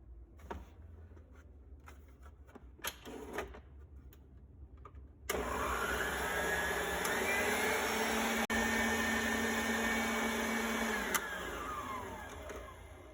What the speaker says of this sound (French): dans le bol du batteur, je verse le sucre et les œufs et je laisse travailler pendant 10 minutes à vitesse moyenne